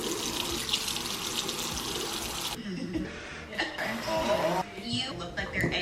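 Tap water runs steadily into a sink, splashing and shifting as makeup brushes are rinsed under the stream, with faint clatter in the middle.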